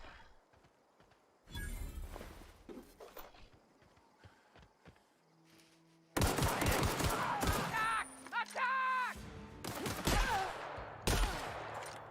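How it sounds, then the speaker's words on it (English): Shotgun blasts and gunfire in the video game The Outer Worlds, bursts of loud sharp reports in two clusters separated by quieter stretches, with game voices and sounds in between. "Of course, it's a shotgun."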